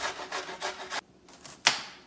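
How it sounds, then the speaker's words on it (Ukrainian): Rhythmic scraping strokes of a knife slicing through an onion on a cutting board, several quick passes, a pause, then one sharp chop. "Нарізаємо цибулю."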